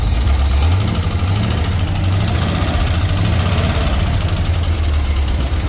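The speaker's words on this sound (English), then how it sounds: "I don't know if you can hear that rattly-tattly lifter sound." A Jeep engine idles steadily at close range, a constant low rumble with a fast ticking rattle from a noisy lifter running through it, consistent the whole time and with no voices.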